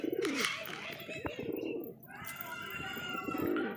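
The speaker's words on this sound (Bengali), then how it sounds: "সব পায়রা খেতে চলে এসেছে" Madras pigeons coo softly amid fluttering and pecking sounds as they feed on mixed grain, with a person talking in the background throughout.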